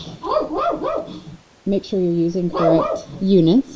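A dog in a yard barks at a squirrel, with repeated yelping, whiny barks in quick runs, fairly loud, while a person speaks over part of it.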